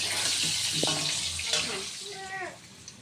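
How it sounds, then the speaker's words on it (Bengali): Potatoes frying in oil in a wok for a meat curry, a steady sizzling hiss running throughout while someone speaks over it. "আর এখন এই যে কড়াইতে আলু ভাজছি মাংসের জন্য।"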